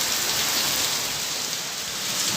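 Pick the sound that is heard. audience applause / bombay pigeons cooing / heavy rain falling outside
heavy rain falling outside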